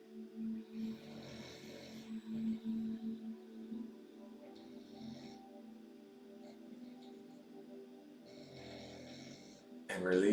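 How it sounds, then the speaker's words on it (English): A slow, deep breath drawn in and pushed out during a guided meditation, soft and airy, rising and falling over several seconds against a faint steady hum. "And let's take in that third breath."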